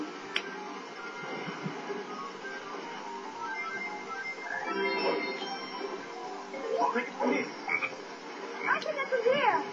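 A green frog croaks repeatedly in the Sonic Heroes video game, rising and falling croaks over a steady game soundtrack, growing busier toward the end.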